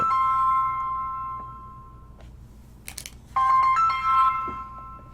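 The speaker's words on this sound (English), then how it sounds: "That was my HTC phone there." An HTC mobile phone rings with a steady electronic ringtone that fades, pauses for a brief crunchy handling noise, then returns loud and close, with no talk.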